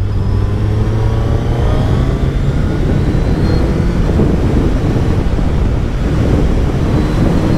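A 2024 Suzuki Hayabusa engine roars continuously under heavy wind rush, a steady loud drone with a low tone rising slightly as the motorcycle accelerates.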